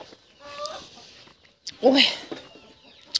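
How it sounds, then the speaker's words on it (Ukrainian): A hen pecking for grubs while grazing in a backyard gives short clucking calls, with a louder burst in the middle and brief quieter sounds around it. A person briefly speaks nearby. "Он доходить, пасеться курка."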